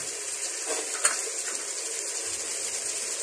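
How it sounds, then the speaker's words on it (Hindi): Water poured into a pan of frying biryani pulao masala with coriander, a hissing sizzle and bubbling gush that stays steady, with a brief clatter. "अब दोस्तों हम पानी डालेंगे।"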